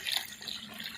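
Water running into a 20-litre container outdoors in a village, a short steady gushing fill with a slight splashy edge, fairly close.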